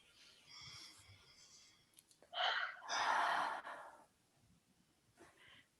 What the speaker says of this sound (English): let's just take a breath with that